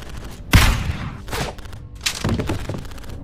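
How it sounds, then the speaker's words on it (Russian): In a Lego World War II stop-motion battle for Berlin, a sniper rifle fires with a sharp, loud crack, followed by further thumping bursts and rumbling impacts. "Schöner Schuss, Hans"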